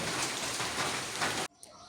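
Heavy rain pours steadily as a dense, continuous hiss, heard from indoors during a downpour, then cuts off abruptly near the end.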